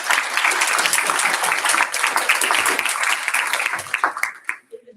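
A room at a DeSoto County school board meeting breaks into a loud, sustained round of applause, dense clapping that holds steady before thinning out and fading near the end.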